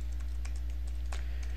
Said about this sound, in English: So you just start typing